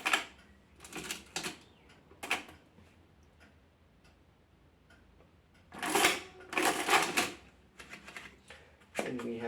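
Curt Herzstark's Multimator calculating machine printing its front register, several bursts of rapid mechanical clattering and ticking, close and fairly loud, separated by quieter gaps.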